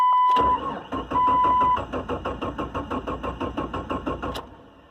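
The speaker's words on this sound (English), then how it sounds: "She'll turn over, but she won't kick off." A Jeep Cherokee with a 5-speed manual cranks without firing: a fast, even run of starter chugs after a short opening whir, close and loud, then the cranking cuts off.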